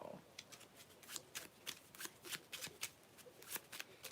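Oracle cards are shuffled in quick, crisp riffling bursts, close and fairly quiet. There are about a dozen rapid flutters in a steady rhythm.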